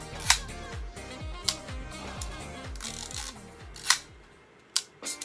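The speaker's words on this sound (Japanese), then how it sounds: "ではシャッターを切っていきましょうか。" A junk ROKKO rangefinder film camera has its shutter fired repeatedly, giving about five sharp, close mechanical clicks spread over several seconds, with soft handling noise and a low voice between them.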